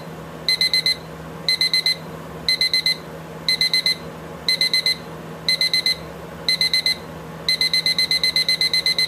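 A Lego Star Wars Darth Vader minifigure alarm clock sounds a shrill electronic beeping in repeated bursts of rapid pulses, with the final burst running longer, clear and close against a quiet room.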